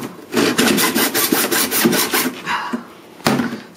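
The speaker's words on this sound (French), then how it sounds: "Ce qui est important quand on coupe, c'est toujours de rester dans l'axe pour que la lame ne casse pas." A blade saws back and forth through material in steady, rhythmic strokes, each pass a rasping burst, fairly close and loud, with a brief pause before a final stroke; no talking.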